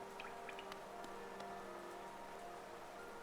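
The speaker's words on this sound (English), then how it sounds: "I so love the sound of the rain upon glass." Soft, steady patter of rain falling on glass in Hollow Knight, with faint scattered drips and pings over a low ambient hum and sustained musical tones.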